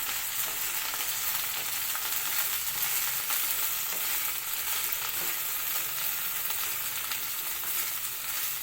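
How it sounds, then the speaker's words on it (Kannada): Okra (lady fingers) frying in a pan for a Karnataka-style palya, giving a steady, dense sizzle that holds evenly throughout with no talking. "ಇದನ್ನು ಫ್ರೈ ಮಾಡ್ಕೊಳ್ಳಿ ಚೆನ್ನಾಗಿ"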